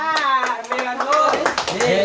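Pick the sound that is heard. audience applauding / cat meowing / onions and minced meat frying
audience applauding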